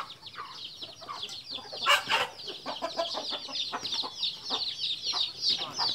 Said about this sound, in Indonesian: tuh ayamnya lagi bertarung